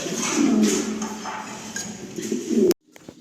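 Pigeons of improved breeds coo in a pigeon house at Rohitpur, giving a low, continuous close-up rumble of overlapping calls that cuts off abruptly near the end.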